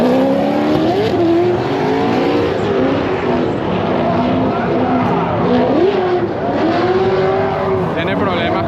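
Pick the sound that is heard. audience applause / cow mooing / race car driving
race car driving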